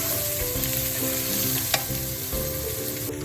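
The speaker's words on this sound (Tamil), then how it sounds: "இப்போ இஞ்சியும் நல்லா வதங்கிடுச்சு." Ginger sautéing in a pan for a scallop curry gives a steady, even sizzle with faint stirring scrapes and one brief sharp tap partway through, close and without any voice.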